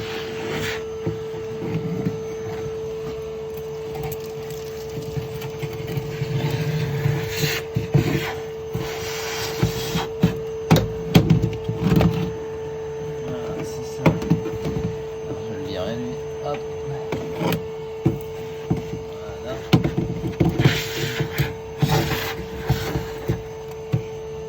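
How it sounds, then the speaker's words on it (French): A vacuum cleaner nozzle rubs and scrapes across the bare floor of a Peugeot 205 interior, irregular bursts over a steady motor hum, fairly close, with no talking. "petit passage d'aspiration avant de remettre les moquettes, enfin les isolants"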